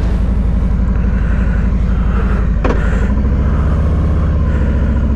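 A 2023 Harley-Davidson Street Glide Special motorcycle engine runs loud and steady while riding, its low rumbling pulse continuous throughout with one brief sharp noise midway.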